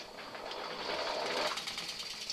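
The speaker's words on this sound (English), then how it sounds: "These are great for removing water from lettuce or other salad greens after you wash them." A salad spinner whirling freshly washed lettuce and salad greens, a steady rapid whirring hum that holds and swells slightly before easing off.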